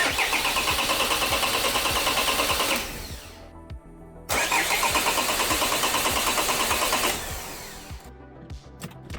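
A Peugeot 406 Coupe with the 2.2 HDI diesel engine cranks repeatedly without firing, the fuel pump fuse pulled after long standing; two steady rhythmic starter bursts separated by a short pause, close and loud.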